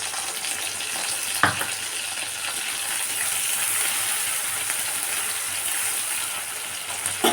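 Chopped onion and tomato sizzle in a hot pan with a steady, even hiss, broken by a couple of short knocks around the middle and again at the end.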